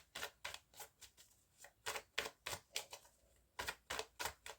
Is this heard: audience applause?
no